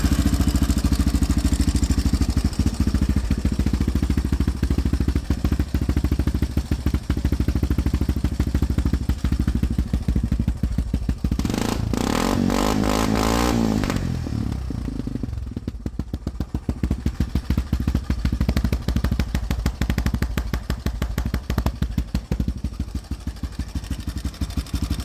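A Yamaha 350cc four-wheeler ATV engine idles loudly with a rough, rapid clattering putter that runs steadily throughout, with a brief surge of revving near the middle before settling back.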